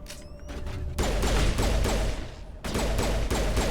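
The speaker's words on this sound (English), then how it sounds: "Oh, they're shooting at me." Rapid bursts of enemy gunfire in the Mass Effect game on Insanity difficulty at Liara's dig site, loud and dense in two sustained volleys separated by a brief lull, with no talking.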